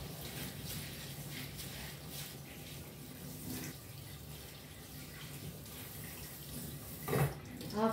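Running water splashes steadily over rice and lentils being rinsed together, a continuous close wash of tap flow with faint sloshing and a few louder stirs near the end.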